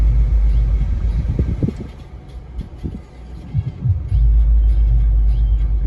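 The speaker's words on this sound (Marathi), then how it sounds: "खूप सारी ट्रॅफिक जाम झालेली आहे" Highway traffic stuck in a jam produces a low, throbbing rumble of idling and slowly moving heavy vehicles, with engines swelling and easing nearby and no speech.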